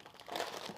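A plastic bag of vermicelli noodles crinkles as it is handled, a short, soft rustle close by with no talk.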